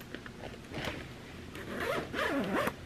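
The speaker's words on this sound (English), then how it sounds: "This is really nice zipper quality." Zipper on a new activewear hoodie with a gunmetal finish being pulled, a close raspy zip lasting a couple of seconds, rising and slowing in short strokes.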